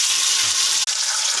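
Beans drop into a pan of frying onions, setting off a loud, dense sizzle that holds steady with one brief dip.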